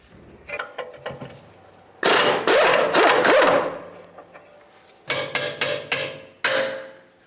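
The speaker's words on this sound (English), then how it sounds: "We'll use an 18mm wrench on the front side, and then we'll remove the nut with an 18 as well." A wrench works on the lower mounting nut of a rear shock on a Dodge Journey, making loud metallic ratcheting and scraping in several close bursts with short pauses between them.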